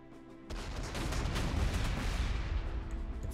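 Artillery fire in the video game Panzer Corps 2: a sudden loud blast opens into a rolling, rumbling boom that sustains and slowly fades, heard alone.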